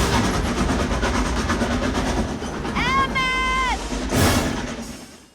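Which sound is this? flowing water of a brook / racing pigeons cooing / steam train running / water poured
steam train running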